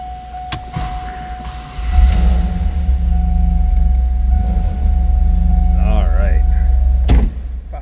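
A 1997 Chevrolet Camaro 30th Anniversary Convertible cranks and fires on a cold start, the engine catching into a loud, steady low rumble that holds at idle, with a short remark in the middle and a click near the end.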